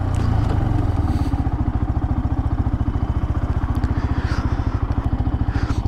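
A Benelli BN 125cc motorcycle pulls in and settles to idle, its small single-cylinder engine giving a steady, close, even putter throughout with no talk.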